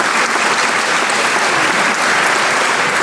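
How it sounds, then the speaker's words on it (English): Loud, dense applause from an audience at a small business awards event for the keynote speaker, a steady wall of clapping that holds for three seconds without any voices. "Give Robert Nelson a round of applause."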